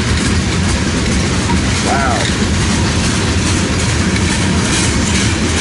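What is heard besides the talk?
long freight train passing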